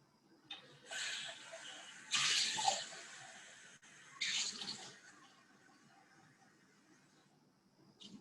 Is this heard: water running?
yes